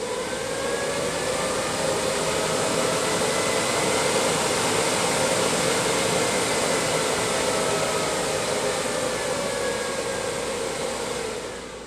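A Degritter Mark II record cleaning machine runs its drying fan at full speed, a loud steady whooshing whine with a tonal hum, unbroken and close, easing only slightly at the end.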